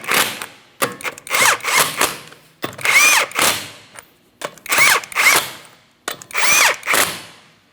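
A power tool spins 19mm lug nuts onto a wheel of a 2004-2008 Pontiac Grand Prix in repeated short, loud whirring bursts with brief pauses between them, close by.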